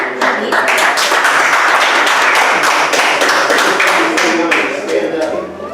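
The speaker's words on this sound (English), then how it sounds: "I'm going to applaud her." A room full of people at a county party committee meeting breaks into loud, steady applause that carries on for several seconds, dense close clapping with some taps and thumps, tapering at the end.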